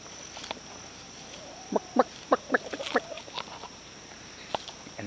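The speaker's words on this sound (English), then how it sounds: "We got chickens." Chickens on a ranch give a quick run of short clucks and calls in the middle, fairly close against quiet outdoor background, with a few softer calls afterward.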